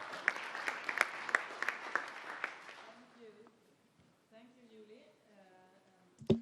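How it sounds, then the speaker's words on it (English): Applause in the ECOSOC chamber at a senior-level UN meeting, sparse distinct claps fading out within three seconds, followed by someone speaking and a loud bump near the end. "Let's give her a warm round of applause, please."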